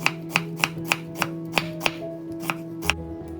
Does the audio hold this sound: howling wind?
no